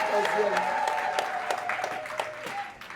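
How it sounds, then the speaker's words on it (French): Audience applause for a woman mayor of Nkongsamba during a visit by a Cameroonian association of women mayors; moderately faint scattered clapping mixed with voices. "Applaudissez pour Madame le maire de Konsamba"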